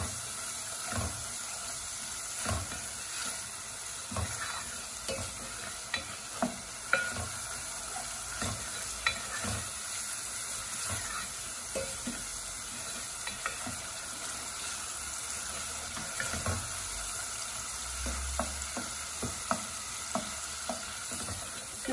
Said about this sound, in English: mixing this till all the raw smell of the powder and the onion disappears